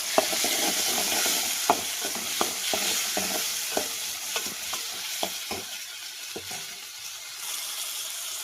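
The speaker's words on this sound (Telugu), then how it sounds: "పచ్చిమిరపకాయలు, ఉల్లిపాయలు అయితే ఫ్రై అవుతా ఉన్నాయి కదండి" Green chilies, onions and tomatoes fry and sizzle in a pan while a spoon stirs them, giving a steady hiss broken by repeated sharp scraping clicks; no one speaks.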